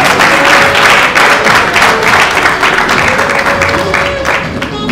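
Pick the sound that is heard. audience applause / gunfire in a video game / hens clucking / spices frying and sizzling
audience applause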